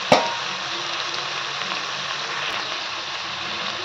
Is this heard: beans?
yes